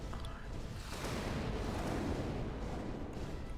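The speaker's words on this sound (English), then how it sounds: "Synchronized explosion. We got the timing down." Overlapping explosions from Final Fantasy XIV combat go off together as a dense, sustained rumble of booms and bursts, loud and steady throughout with no clear gaps between blasts.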